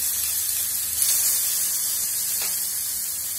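Garlic paste goes into hot mustard oil with red chili and asafoetida, giving a loud, continuous sizzle and hiss close up.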